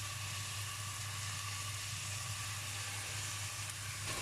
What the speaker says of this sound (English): I'm just going to mix it up a little bit until the onions start cooking